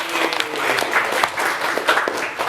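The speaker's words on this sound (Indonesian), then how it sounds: "Tepuk tangan dulu" A crowd claps and applauds steadily for a couple of seconds, dense and lively, with a few voices faintly mixed in.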